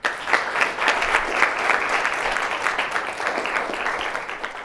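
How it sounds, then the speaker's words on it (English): A lecture-hall audience applauds the panelists at the close of a venture capital course session, steady dense clapping sustained for several seconds, loud and fairly close, with no talk over it. "Let's give all the panelists a round of applause"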